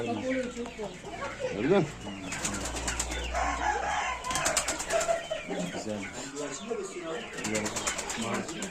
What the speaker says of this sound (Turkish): Tabi civcilerimiz, güvercinlerimiz bu şekilde.